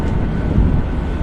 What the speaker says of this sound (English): it's a bit windy as you'd expect